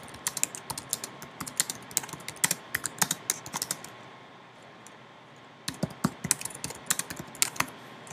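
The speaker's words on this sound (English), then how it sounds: "if I need to put some text in here, I can type some text in here" Close, crisp keystrokes clatter on a computer keyboard in quick irregular bursts, pause for about two seconds in quiet room tone, then resume typing.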